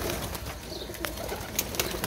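Pigeons kept on a rooftop coop, offered for sale, give soft low cooing in short repeated phrases against a steady background hiss, moderately near.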